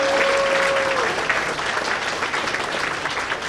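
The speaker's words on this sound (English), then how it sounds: "Please welcome Sherry Tan." A crowd at a women's professional bowling tournament stepladder final applauds a player's introduction: continuous full applause, with a brief tonal whistle-like sound at the start, holding steady throughout.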